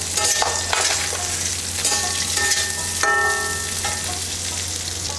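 Cauliflower, coconut, peanuts and other prepared vegetables stir-fry with potatoes in a pan, a loud, steady sizzle with scraping stirs and a few sharp metallic clinks from the spoon, close and without talk.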